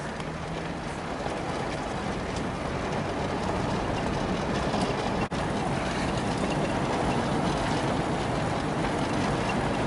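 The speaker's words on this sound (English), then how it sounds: "Oh, it's ditch cutters I hear." A ditch-cutting machine grinds away close by, a loud, steady mechanical roar that never lets up, with no voices.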